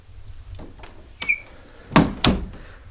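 A bathroom door in a house swung shut, a few soft creaks and bumps followed by two firm thuds close by as it closes, with no one talking.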